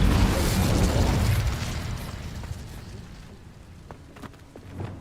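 An Incendio fire spell in Hogwarts Legacy erupts as a loud whooshing, crackling blast that rolls for over a second, then decays into fizzing crackle with a few small pops and a final burst.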